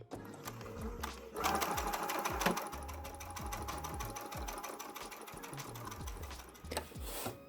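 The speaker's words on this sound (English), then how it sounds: "So I get my row of stitching just inside the seam" Sewing machine stitching in the ditch along a fabric seam, a quick steady mechanical whir and needle clatter that runs continuously, with a short pause and restart near the end.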